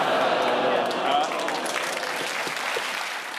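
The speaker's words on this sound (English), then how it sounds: "You send a mixed message when you groan and then clap" Applause from a television panel-show studio audience, a dense steady wash of clapping that tapers slightly toward the end; any groan before it is not clearly distinguishable.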